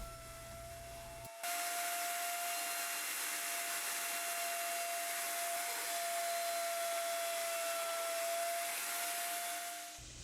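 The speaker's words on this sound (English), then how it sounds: "Now I'll head over to the router to use a 1/4 inch roundover bit to start shaping the" A wood router fitted with a 1/4 inch roundover bit shapes PC ram knife scales, a loud steady high-pitched whine with a sustained tone that starts abruptly after a brief lead-in and runs without a break.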